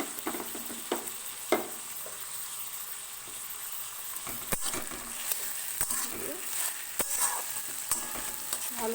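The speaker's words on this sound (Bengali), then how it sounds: "এবার আমি এতে এই টমেটো কুচি এবং তার সাথে এই লঙ্কা কুচিটা দিয়ে দেবো" Chopped tomato and green chili frying in a pan for a spicy Bengali egg tarka, a steady close sizzle with occasional scrapes and clinks of stirring.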